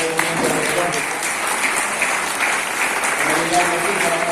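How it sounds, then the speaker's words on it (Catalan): Steady applause from an audience honoring women at a women's gathering in Soleràs, Garrigues, a dense even clapping that fills the whole stretch with no pause. "demano que les que avui són aquí que es plantin per poder-los fer un fort aplaudiment"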